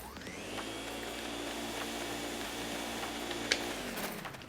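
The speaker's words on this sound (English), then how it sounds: "That's the vacuum cleaner engineered to catch ghosts." The Poltergeist 3000 ghost-catching vacuum from the video game Luigi's Mansion runs as a steady whirring motor drone that holds for several seconds, then winds down near the end.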